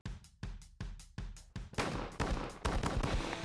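A 12 gauge shotgun fires at doves during an Argentina dove hunt: about five sharp, loud, spaced blasts in quick succession, then a denser overlapping volley of shots from several guns.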